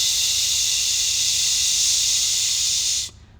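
A voice imitates tinnitus with a sustained, steady 'shh' hiss, loud and close for about three seconds before cutting off abruptly.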